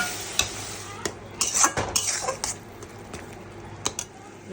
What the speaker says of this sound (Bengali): এবার জিরা আদা বাটা টাটা যেগুলো রেখেছি সেগুলো দিয়ে দিবি